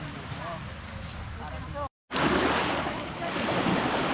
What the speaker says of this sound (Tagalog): Ito yung dagat guys.